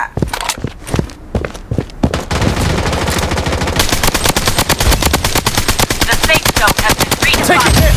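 Loud gunfire in the mobile shooter Blood Strike. Sparse single shots come first, then a sustained, rapid machine-gun stream of sharp cracks runs to the end, with faint footsteps between.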